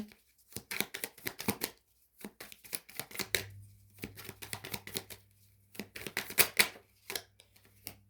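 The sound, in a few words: tarot cards being drawn and handled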